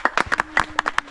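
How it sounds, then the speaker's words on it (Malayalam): Scattered claps from a small audience at a children's competition event, a handful of sharp irregular hand slaps over about a second, fairly close and modest in volume rather than a full ovation. "അടുത്ത കയ്യടി പോരാ, കയ്യടി പോരാ"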